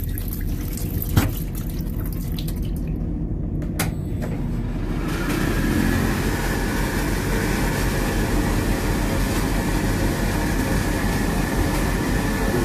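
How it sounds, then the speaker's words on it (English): CrossCountry Class 170 diesel unit between Nottingham and Tamworth slowing for its stop at Burton: a steady, loud interior rumble with wheel and rail noise, swelling slightly partway through, with no voices. "I think my train's stopping now at Burton"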